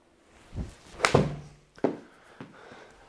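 Golf balls struck with a 50-degree wedge on an indoor launch-monitor setup, a few sharp separate thwacks with quiet gaps between, no speech.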